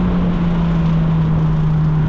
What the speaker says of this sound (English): The exhaust also sounds great.